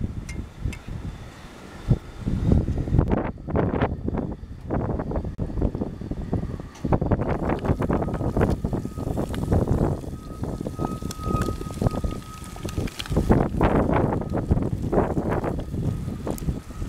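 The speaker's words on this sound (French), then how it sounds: "Même le réchaud siffle à cause du vent." Steady hissing roar of a camping stove battered by gusting storm wind, loud and continuous, with buffeting noise rising and falling throughout.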